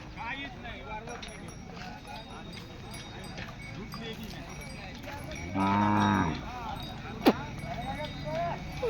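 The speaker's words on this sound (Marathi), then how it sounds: "मोहदा बैल बाजारमध्ये वासरू आहे" A calf moos once, loud and near, amid the busy murmur of a rural bullock market, with people talking throughout and a sharp knock near the end.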